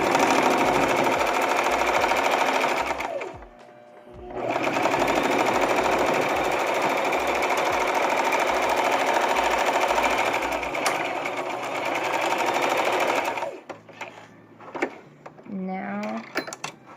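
A home sewing machine straight stitching fabric for a removable chair seat cover, a loud, fast, steady whir running in long bursts with brief pauses between seams, and a voice speaking near the end.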